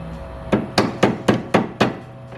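A soft hammer strikes the steering shaft of a Toyota A90 Supra to break loose its splines, six evenly spaced, solid blows about a quarter second apart, close and clear with no talking.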